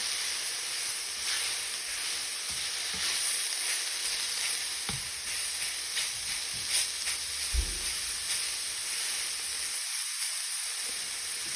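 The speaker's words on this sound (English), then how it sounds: "I'm going to stir shiitake mushrooms with a spatula" Shiitake mushrooms sizzle in oil over medium-high heat, a steady close hiss with occasional soft spatula scrapes and taps and brief quieter pauses, with no talking.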